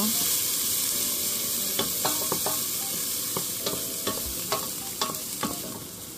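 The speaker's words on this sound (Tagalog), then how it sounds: "Nagisa lang tayo ng sibuyas tsaka bawang." Onion and garlic sizzle steadily in a hot pan, a constant frying hiss broken by several sharp clinks and scrapes of a utensil stirring, with no talking.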